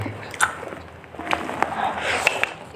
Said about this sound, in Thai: มากินส้มตำครับ